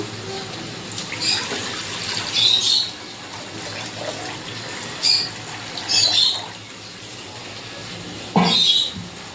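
Several short bursts of water splashing into a wok, each a second or so long, over a low background sizzle.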